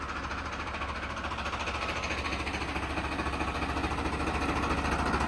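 A tractor pulls a rotavator through a field being prepared for potato planting, its engine a steady, loud, continuous rumble with a rattling mechanical undertone and no voices.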